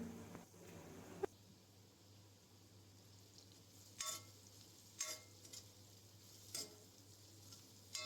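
Faint, intermittent scraping of a spoon stirring spice masala in a pan for Malvani vatana curry, a few short strokes spaced apart over a low steady background hum.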